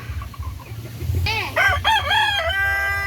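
A rooster crows loudly and close by, a drawn-out call rising then trailing off, over low wind rumble and a few faint clucks.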